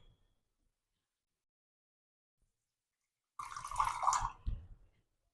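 Water and half a cup of milk poured into a pot of almond broccoli soup: one short splashing pour of about a second, close by, after near silence.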